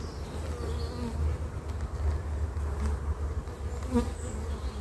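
Honeybees hum around an unmarked queen on brood frames in an open hive. The buzzing is close and continuous, with individual bees drifting near and away.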